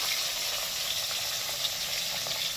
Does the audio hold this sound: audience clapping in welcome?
no